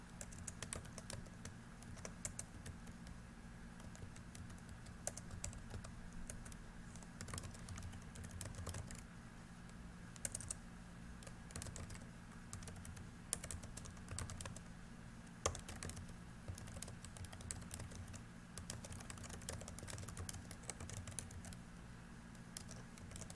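Steady typing on a computer keyboard during a quiz-building session, a continuous patter of close, quiet keystrokes with a few sharper clicks, and no talking.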